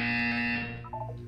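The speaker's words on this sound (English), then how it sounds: "You will hear a buzzer. When you hear the buzzer, look up at the ceiling." A steady electronic buzzer drones loudly in a test chamber in the video game Portal 2, holding one harsh tone for over a second with a few faint tonal blips near the end.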